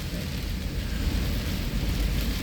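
Steady wind-driven rain storm on the Oregon coast at Yachats, heard through an open window as a continuous dense rushing hiss with a low rumbling roar, loud and unbroken throughout.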